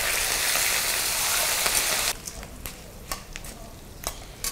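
Green chilies and curry leaves hit hot oil with a loud, dense sizzle that fades after a couple of seconds into softer crackling and scattered pops, the frying for a pulihora tempering.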